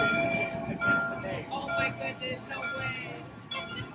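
A Disneyland train rumbles and clatters with faint tonal squeals while people talk over it nearby.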